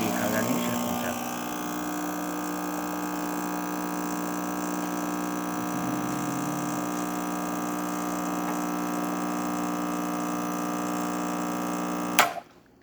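A Rancilio espresso machine pulls a shot with a steady electric pump hum and drone throughout, cutting off abruptly near the end.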